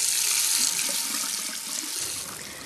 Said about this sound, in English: Make sure you rinse the shaving head under hot water every now and then